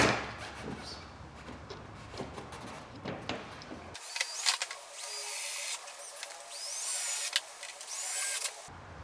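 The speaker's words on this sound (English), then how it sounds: "We're just drilling it right in the body." A power drill whirs in short bursts as it drives screws into an EZGO golf cart body, installing a diamond plate accessory kit, loud and close, with brief pauses and clicks between runs.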